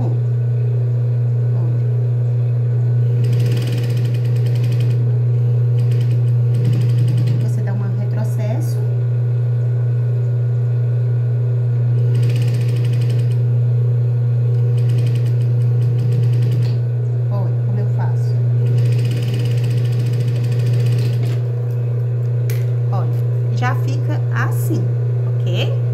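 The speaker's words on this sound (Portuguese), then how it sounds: "A gente vai passar a costura todinha em cima da nossa presilhinha e já arrematando" An electric sewing machine runs close by at half presser-foot speed, stitching a children's wrap shorts seam over a small fabric tab, with a steady low motor hum under intermittent talking.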